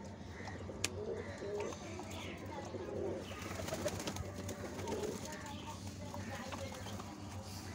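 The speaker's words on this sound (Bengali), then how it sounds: "সব নতুন পায়রা।" Pigeons coo softly and repeatedly in a steady, low background murmur, with occasional chirps from other birds and faint human voices mixed in throughout.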